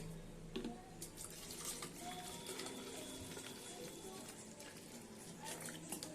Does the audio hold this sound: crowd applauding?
no